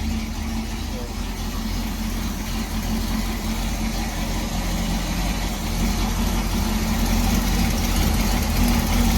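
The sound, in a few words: car engine idling after rear main seal replacement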